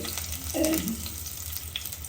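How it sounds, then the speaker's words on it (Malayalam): Coconut oil sizzles in a clay curry pot, a close, steady frying hiss with a brief louder crackle, short and without talk. "കറച്ചട്ടിയിൽ കുറച്ച് വെളിച്ചെണ്ണ ഒഴിക്കും"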